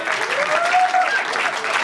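Comedy club audience breaking into brief, loud applause with some crowd noise, a dense burst of clapping with a voice briefly heard over it.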